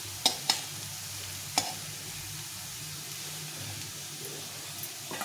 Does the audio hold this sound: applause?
no